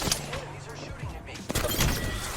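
Enemy gunfire in the video game Apex Legends, rapid bursts of shots crackling through the game mix while a player talks over it.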